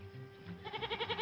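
A nanny goat perched up on a roof on a Western ranch gives one short, quavering bleat, its voice wobbling rapidly and growing stronger toward the end, close and alone.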